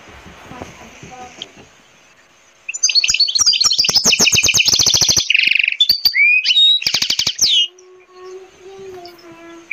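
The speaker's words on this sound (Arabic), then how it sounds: "عصفور الكناني" A canary sings loud and close, with rapid trills, chirps and whistled runs that pile into a dense burst; quieter sounds come before it, and a steady tone continues after the song stops.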